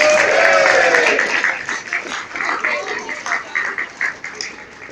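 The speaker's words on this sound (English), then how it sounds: "Round of applause for all of our youth winners." A crowd at a cosplay contest claps and cheers for youth winners, strongest at first and then fading into scattered applause with a few voices mixed in.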